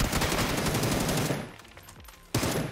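Video game gunfire: rapid machine-gun bursts rattling loudly for over a second, a brief lull, then another sudden loud burst.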